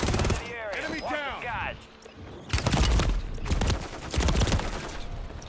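Call of Duty Warzone Plunder gunfire, dense bursts of shots crackling in rapid clusters, loud and close, mixed with game voice callouts and excited player chatter.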